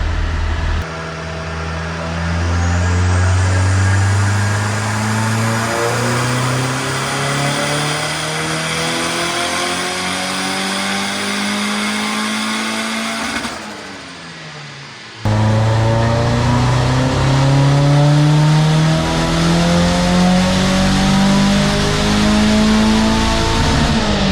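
A turbocharged B18B1 engine in a Honda Civic revs hard on a dyno in 4th gear, its pitch climbing steadily in two long pulls, loud and close with a brief drop between them.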